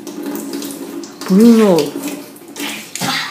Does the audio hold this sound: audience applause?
no